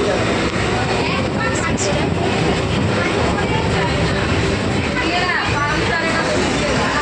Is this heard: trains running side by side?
yes